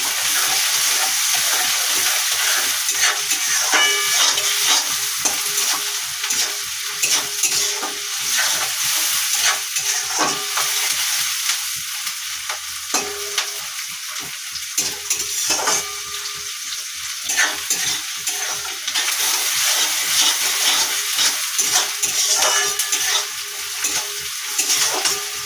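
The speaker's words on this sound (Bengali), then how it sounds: "পেঁয়াজ কুচিটা ভাজা ভাজা করে নেবো" Chopped onions frying in about 50 grams of oil, a dense continuous sizzle with frequent stirring and scraping strokes, close and loud, nobody speaking.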